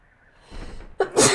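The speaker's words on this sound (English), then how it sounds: "Oh, I feel like I'm gonna sneeze." A single sneeze, a quick intake of breath rising into a sharp, loud burst at close range, with no other sound around it.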